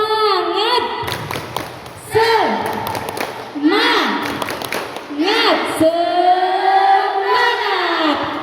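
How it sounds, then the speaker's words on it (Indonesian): Another round of the 'tepuk semangat' clapping chant by women at a religious study session: quick clusters of rhythmic claps and thumps alongside rising, sing-song group chanting and a leader's voice. "Lagi, tepuk semangat."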